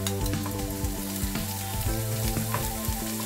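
Chopped ginger hits light golden-brown garlic in a pan for Schezwan sauce, a loud, steady sizzle of hot oil with a constant underlying hum, no voices.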